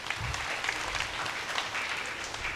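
Congregation applauding at a Christmas midnight Mass in St. Anthony's shrine church, Melnariyappanur: steady, dense clapping from many hands, moderately distant and sustained, with no voices over it.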